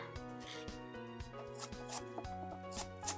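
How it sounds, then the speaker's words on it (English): A knife cutting quartered apple pieces into thirds on a board, a run of crisp, evenly spaced chops and taps heard close up, with no talk over them. "We're gonna just cut these into thirds."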